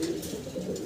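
Exhibition pigeons coo softly in a cage, a steady low murmur that runs throughout the short stretch at moderate level with no talk.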